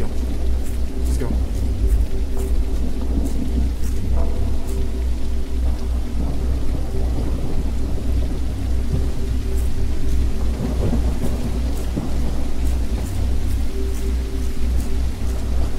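Heavy rain pours outside an abandoned house while thunder rumbles low and continuously, a loud wash of storm noise throughout, with voices talking faintly beneath it.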